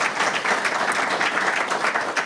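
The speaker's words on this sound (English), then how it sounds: "just give all of our municipalities a round of applause" An audience applauds the municipalities at a provincial update breakfast, with dense, steady clapping that carries evenly through the short stretch at a moderate level, no voices rising above it.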